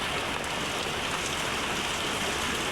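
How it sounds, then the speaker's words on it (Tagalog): Steady afternoon rain falls at the start of the rainy season, a continuous even hiss of drops on surfaces that stays uniform and fairly close with no voices. "Umulan na nga."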